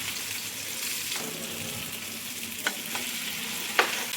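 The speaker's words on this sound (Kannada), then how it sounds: "ಈಗ ಒಂದು ಸೈಡ್ ಫ್ರೈ ಆಗಿದೆ, ಇನ್ನೊಂದು ಸೈಡ್ ಕೂಡ ಫ್ರೈ ಮಾಡ್ಕೊಳ್ತಿದ್ದೀನಿ." Pomfret fish fries in a pan with a constant close sizzle and hiss, broken by a few sharp pops and spatters.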